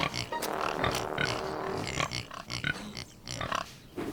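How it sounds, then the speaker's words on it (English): Cartoon pigs on a pig farm grunt and oink repeatedly up close, a run of snorting grunts followed by shorter, scattered squeals. "Thomas liked their curly tails and the funny noises they made."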